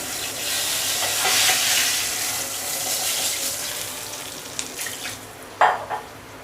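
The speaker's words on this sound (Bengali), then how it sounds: "এই তেলের মধ্যে আমি ভেজে নিব আলুগুলোকে লবণ হলুদ দিয়ে মেখে নিয়েছি।" Potatoes coated with salt and turmeric frying in hot oil in a home kitchen, giving a steady broad sizzle with small stirring scrapes and a couple of sharper clinks near the end, no talking.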